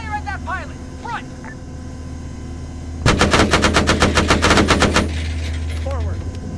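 Close, loud machine gun fire in the military shooter ARMA 3: a fast, even burst of about two seconds among game sounds, with voice commands around it.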